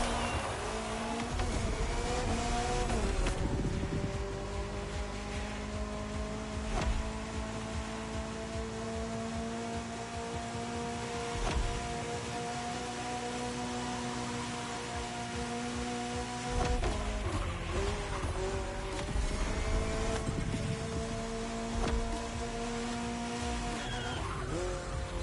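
A race car in The Crew Motorfest drones with a sustained engine tone that shifts as it slides and nearly spins out, thin tire squeal woven through, steady and close with no talk.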